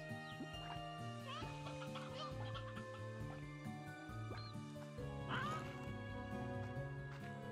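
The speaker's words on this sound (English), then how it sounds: "Lots of chickens." Video game chickens cluck in quick bursts over a steady tonal soundtrack in the background. The sounds are soft and low in level, with no talking.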